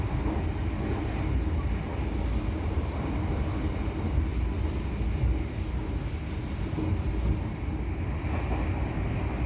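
A steady, loud rumble and rattle of the Argo Merbabu passenger train in motion, heard from inside the restaurant car, running continuously with no break and no speech.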